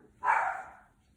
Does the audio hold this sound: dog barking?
yes